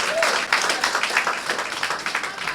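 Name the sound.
applause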